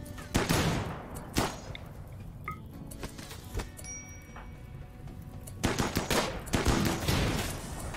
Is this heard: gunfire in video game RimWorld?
yes